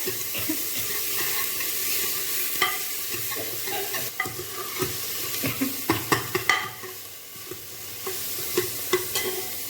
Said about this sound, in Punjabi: ਇਧਰ ਸਾਰਾ ਤੜਕਾ ਲੱਗ ਰਿਹਾ